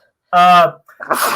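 A single loud sneeze rings out close up, a sharp voiced burst, followed at once by a person starting to speak.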